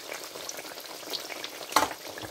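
Naan pakora fry in hot oil as they are turned over, giving a soft bubbling sizzle with a brief louder splash and crackle partway through.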